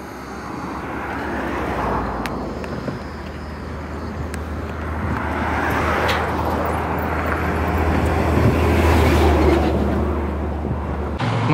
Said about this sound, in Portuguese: Tá vindo caminhão!